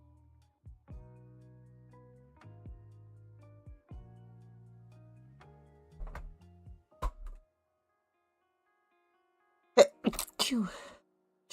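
A sneeze sound bite plays from a soundboard during a charity event stream: a few soft tones and clicks first, then a sharp, close sneeze burst near the end.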